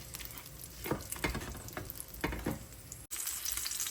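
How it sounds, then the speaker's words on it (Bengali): Mughlai paratha shallow frying in oil in a pan, a steady bubbling sizzle with a few louder crackling bursts, briefly cut off near the end before resuming. "একটু সময় নিয়ে ভাজতে হবে"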